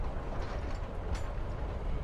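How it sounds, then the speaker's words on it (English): A train riding along in the video game Life is Strange: Before the Storm, a steady rumbling roll of wheels and carriage noise that holds evenly throughout with no voices. "I got on this train with you"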